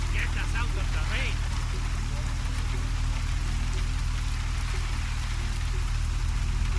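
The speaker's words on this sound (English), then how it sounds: "At least get us out of the rain." Steady rain pours in the video game Deus Ex: Mankind Divided, a dense even hiss that continues throughout, with a low rumbling bed underneath and brief voice-like sounds near the start.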